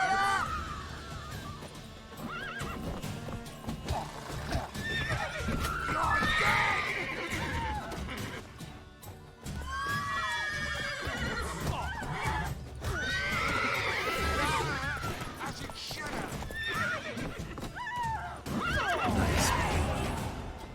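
Horses in the game Witcher 3 whinny and neigh repeatedly over a rhythmic clip-clop of hooves, loud and close, with a few shouts mixed in across the whole stretch.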